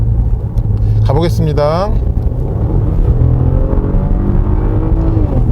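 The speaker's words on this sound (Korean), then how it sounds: "엔진은 분명히 회전수가 치솟아요." A 2018 Maserati Levante V6 revving in sport mode on a winding road, heard from inside the cabin as the engine climbs sharply in pitch then holds a steady drone, with someone talking over it.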